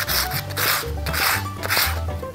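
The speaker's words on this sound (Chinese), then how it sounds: "用完牙刷之後就用砂紙啦" Sandpaper rasps against a handmade silver ring in quick, rhythmic back-and-forth strokes, close and loud, with about four distinct rubbing passes and no talking.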